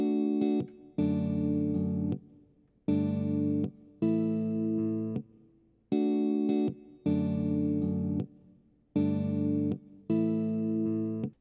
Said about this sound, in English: the second electric guitar part comes in here.